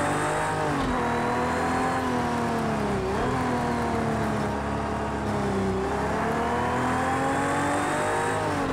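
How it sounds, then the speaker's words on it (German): A deep, old V12 racing engine of a Ferrari 330 P4 in the video game Project CARS 2 drones steadily at Laguna Seca, its pitch rising and falling in smooth revs, loud and close with no voices. "Das klingt auch irgendwie richtig nach so einem alten V12."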